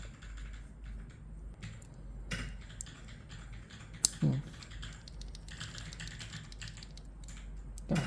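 KTT Waverider tactile switches being fitted into a keyboard and pressed, giving sparse quiet clicks and a few sharper snaps over low background hum.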